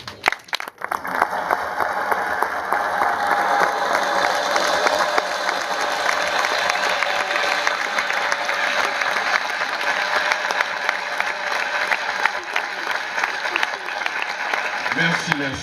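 Crowd at an outdoor campaign talk in Owendo applauds and cheers loudly as a presidential candidate is introduced, dense continuous clapping with shouts, starting abruptly and holding strong throughout.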